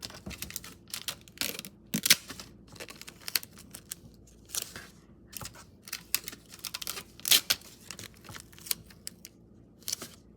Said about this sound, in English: Now we have to tape it up.